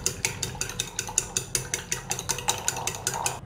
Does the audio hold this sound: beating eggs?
yes